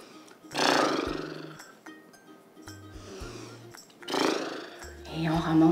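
Three deep, audible breaths are taken and released during a yoga pose with the forehead on the floor, slow and close, with a voice speaking and soft music between them.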